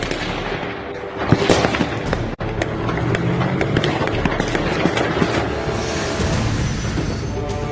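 Heavy gunfire on a street in north Kyiv crackles continuously, with dense bursts of sharp reports and occasional louder single shots echoing over a steady background roar.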